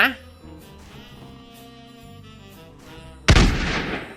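A single loud burst of gunfire in the battle game TABS (Totally Accurate Battle Simulator) erupts near the end, following a stretch of game music, with a Thai-speaking man chatting throughout.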